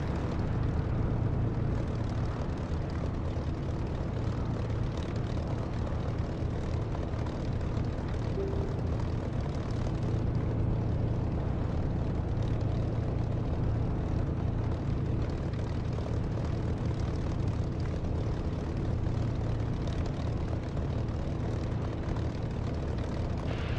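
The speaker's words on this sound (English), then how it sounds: "Nice gentle flyby there, Soda, thank you." A jet making a gentle flyby in the DCS flight simulator, a steady, broad engine roar that holds evenly for the whole stretch with no talk over it.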